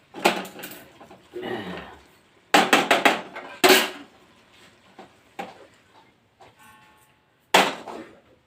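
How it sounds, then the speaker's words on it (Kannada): A knife chops coriander leaves on a board in a home kitchen in several clusters of quick, close taps with pauses between them, and faint kitchen clatter in the gaps. "ಈಗ ಇದಕ್ಕೆ ಸ್ವಲ್ಪ ಕೊತ್ತಂಬರಿ ಕಟ್ ಮಾಡಿ ಹಾಕಿ"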